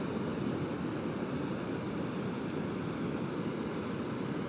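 Ocean surf on the Oregon coast, a steady broad roar of waves with wind, constant and enveloping without distinct breaks.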